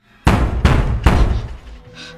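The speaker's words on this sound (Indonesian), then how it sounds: "mendengar suara seseorang yang sedang mengetuk pintu kamarnya" Three loud, heavy knocks on a bedroom door in a horror film, evenly spaced and close, each booming thud ringing out briefly before the next.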